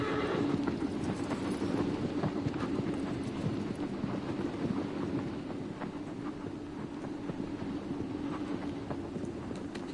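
A horse in a video game gallops with steady clip-clop hoofbeats and whinnies amid constant rumbling background noise, moderately distant and without talk.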